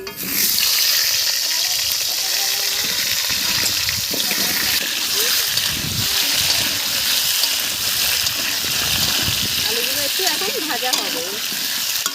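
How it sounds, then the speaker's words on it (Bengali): Potatoes fry in oil left over from frying fish, a loud, constant sizzle and hiss with stirring scrapes throughout and a person talking intermittently over the cooking. "মাছ ভাজার তেলে আমি আলুগুলো তুলে দিচ্ছি"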